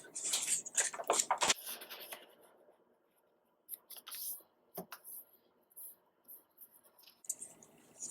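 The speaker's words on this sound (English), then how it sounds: "Fold the paper in half." A square of orange paper being folded in half, with crisp crinkling and rustling bursts at first, then a quiet pause and scattered light creases and scrapes, close and soft.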